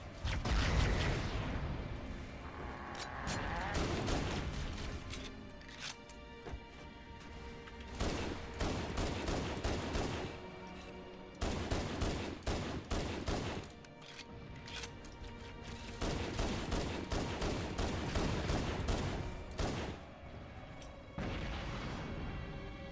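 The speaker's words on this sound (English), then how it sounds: "Is that a fuel rod cannon? That is definitely a fuel rod cannon." Repeated heavy energy-weapon blasts from a fuel rod cannon in Halo: Combat Evolved Anniversary, booming bursts in irregular clusters over a dense battle din, loud and close throughout.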